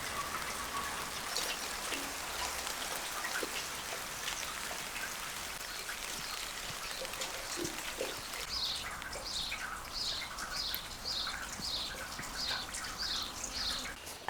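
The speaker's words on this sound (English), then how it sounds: "It's a quiet, rainy day, just what the soil needs to welcome the new seedlings." Rain falling on a garden with soil and new seedlings, a steady close patter of drops on surfaces, with a bird chirping repeatedly in the background partway through.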